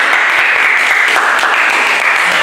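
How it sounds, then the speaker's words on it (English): An audience claps loudly and continuously for Kate at an academy session, a dense, close wash of applause with no break. "So, applaud for Kate."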